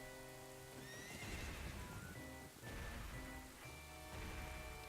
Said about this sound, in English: the N64's great effects with the rain and this horse ride